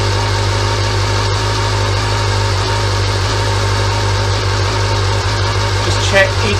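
Honda CB-1 (NC27) motorcycle engine idling steadily, a low even hum with a constant pulse, close up, with a voice talking briefly over it.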